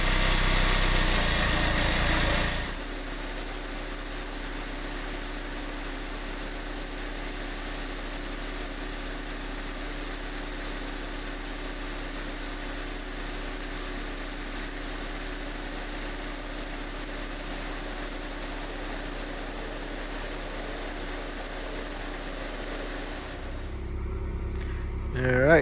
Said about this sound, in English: Alright, so the engine is in and running.